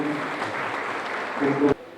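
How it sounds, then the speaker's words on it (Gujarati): An audience at a Swachh Bharat cleanliness campaign ceremony in Chhota Udepur district claps steadily under an amplified voice, then the applause cuts off abruptly. "આપને તાળીઓથી વધાવી લઈશું"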